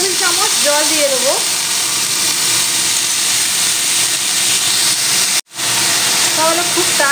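Peas sizzle loudly in hot oil on a medium gas flame as water is added, a constant close hiss with a brief dropout near the end and a voice speaking over it.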